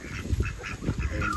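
Ducks quacking in a quick, repeated series of short nasal calls, fairly close, with no talking.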